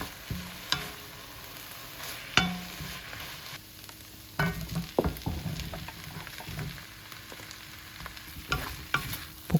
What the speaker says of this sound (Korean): 양파는 최대한 가늘게 채 썰어서 볶아주고요